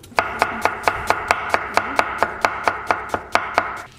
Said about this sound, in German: Dazu schneide ich mir erstmal die Zwiebel in möglichst feine Würfel.